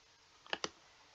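A computer mouse gives a quick double click, crisp and close, in a quiet room with no talking.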